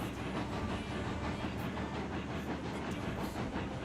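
Cook 280 locomotive in a railroad video game, a steady rumbling roll with faint rhythmic clatter of wheels on rails, continuous and fairly quiet, no talking.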